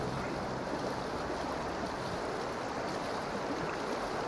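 A water vehicle in PUBG moves across the water, giving a steady, even wash of rushing water and engine noise that stays constant from start to end with no talk.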